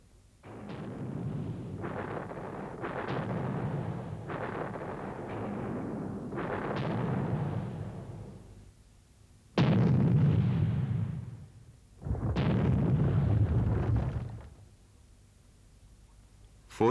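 A series of deep, rumbling booms from artillery cannon fire, each swelling and fading over a second or two, with heavier blasts near the end.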